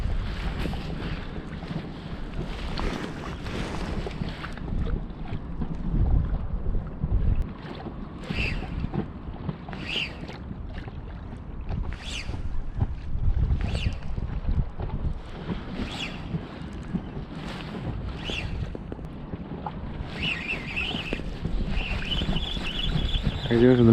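Strong wind buffets a fishing boat on the Volga, roaring steadily across the microphone with bursts of gusting, while faint water and boat noises sit underneath.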